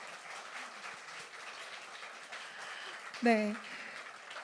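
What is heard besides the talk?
audience applause for the lecturer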